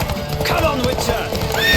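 The horse Roach gallops in a race in The Witcher 3, with quick rhythmic hoofbeats, a neigh, and speech over the top.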